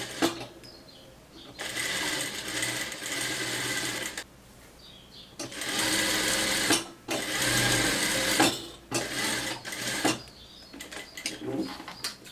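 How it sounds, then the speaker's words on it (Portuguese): A sewing machine runs in several bursts of fast stitching along the edge of a cropped top with a flared triangle sleeve and ruffle, pausing briefly between runs, close and steady. "Agora eu vou passar uma costura na beirinha."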